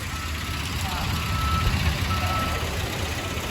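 A large Amazon delivery truck reversing on a residential street, its steady engine rumble carrying faint repeated beeps in the background, with no clear talk.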